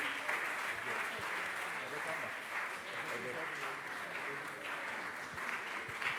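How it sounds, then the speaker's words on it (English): Sustained audience applause for a church diocesan choir after a concert hymn, a dense, steady wash of clapping that holds evenly throughout with a faint voice beneath it. "Let's clap for them again."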